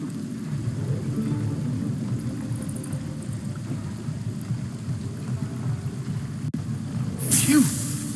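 A low, steady hum from the infernal engine in Karlach's chest in Baldur's Gate 3, running hot, rumbling continuously at close range with a brief brighter swell near the end.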